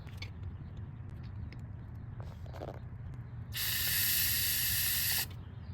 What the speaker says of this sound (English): with the nail you're able to push into this part here, and then the spray will come out